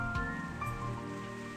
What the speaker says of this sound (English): The soft sound of rain filled the silence between us.